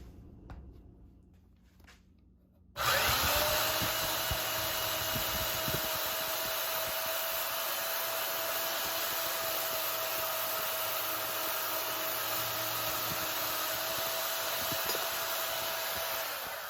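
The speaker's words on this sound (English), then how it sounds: "let me see if I can cut this pin out with a bandsaw" A bandsaw runs steadily as it cuts through a rusty pin in a knife, starting abruptly after a quiet few seconds and then holding a loud, continuous whine and grinding for the rest of the clip.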